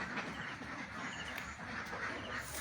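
Egg-laying ducks on a farm flock of about 700 fed napier grass, quacking faintly and intermittently in a low, busy background with no speech.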